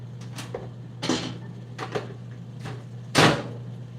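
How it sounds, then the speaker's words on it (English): A microwave oven runs with a steady low electrical hum throughout, broken by a few scattered clunks and knocks, the loudest one near the end. "heat this up in the microwave"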